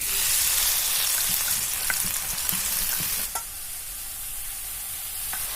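Squeezed wild sal-forest mushrooms drop into hot oil with a loud, close sizzle and crackle that fills the start, then settles into a softer, steady frying hiss with a few light clicks.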